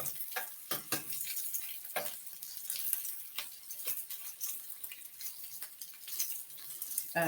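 Glamorgan vegetarian sausages fry in a pan with a steady, close sizzle, broken up by frequent sharp crackles and spits. No one speaks.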